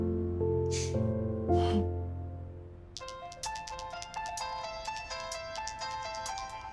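A mobile phone ringtone plays loud and close, beginning with a tonal melody and then switching to a rapid, bright repeating ring pattern that continues steadily.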